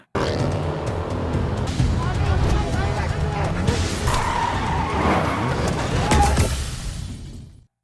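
A car crashing in a film after its driver is shot, with tires skidding and squealing over a roaring engine, loud and sustained for several seconds, then a brief shattering impact before the sound cuts off abruptly.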